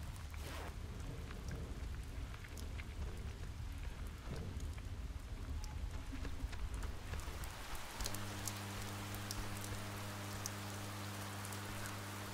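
A steady, hissing downpour of rain with scattered drop patter fills the video game Oxenfree, close and constant. Partway through, a low sustained tonal drone rises beneath the rain.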